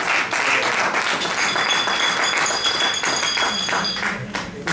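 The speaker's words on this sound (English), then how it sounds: "Let's give her a strong round of applause." A conference audience in Ghana applauds to welcome Kwana Strong, a dense burst of clapping that holds steady for several seconds and thins slightly at the close.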